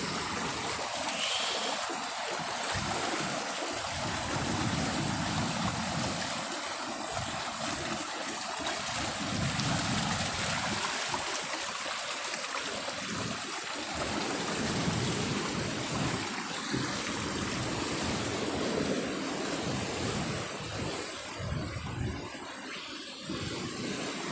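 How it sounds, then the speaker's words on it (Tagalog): Steady roaring surf of a big ocean swell surging up toward homes fills the scene, a continuous loud wash of big waves breaking with no voices. "tungod sa kadagkong dagat, musakar jud ang dagat dira sa among panimalay"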